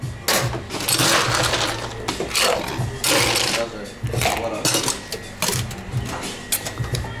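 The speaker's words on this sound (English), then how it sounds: "Quick dry shake." A cocktail shaker gets a vigorous dry shake, without ice, for a thyme-sage sour, producing a loud, continuous rattling slosh with rapid rhythmic strokes across the whole stretch, close and dominant, with faint voices mixed in.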